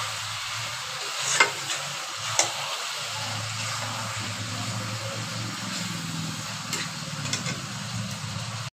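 Spiced chicken pieces stirred and fried in a pan with dry chilli powder and masala, a steady close sizzle with a few sharp spoon scrapes against the metal, no talking.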